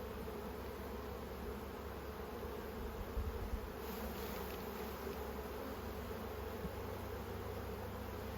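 Continuous low buzzing of many honeybees around a hive, a dense steady drone at close range with no talking.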